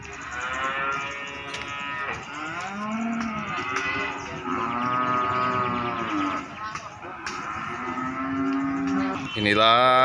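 Many cattle mooing loudly and continuously, overlapping calls filling the busy Paing cattle market in Pati, Indonesia, with people talking faintly in the background.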